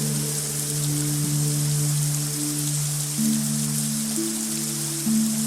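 Summer rain falls in a soft, even hiss, with sustained low musical drones shifting pitch underneath throughout.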